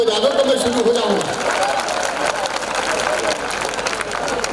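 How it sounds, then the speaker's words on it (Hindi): Audience applause at a comedic kavi sammelan poetry event in a hall, a dense wash of clapping filling the whole stretch with steady intensity, a voice briefly audible at the start before the crowd noise takes over. "सारे मिलकर ताली बजा दो तो मैं शुरू हो जाऊंगा।"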